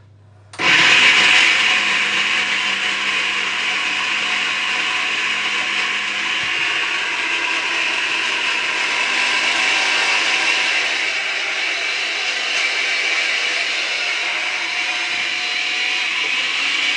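A countertop blender blends a healthy homemade juice drink made with mineral water, a loud steady whir that starts abruptly and holds at an even, close roar with no talking.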